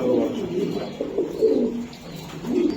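Several pigeons, including a white Birmingham, coo repeatedly, low and rolling, close by with little else around.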